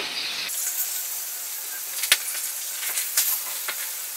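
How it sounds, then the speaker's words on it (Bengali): Constant hissing sizzle of fish frying in a pan, with a couple of sharp clatters and scrapes as pieces are flipped. "সব মাছগুলোকে আমি এবার একটু উল্টে পাল্টে দিয়ে ভেজে নেব ভালো করে"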